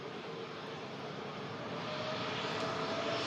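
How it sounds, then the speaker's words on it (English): Boeing 787 Dreamliner engines spooling up at an airport, a steady broadband roar that swells slightly louder toward the end, with no voices. "Also the Dreamliner now just spooling up."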